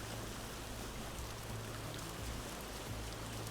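Rain falls in the sandbox survival game Vintage Story as a soft, steady hiss of drops with a low rumble underneath, faint and continuous.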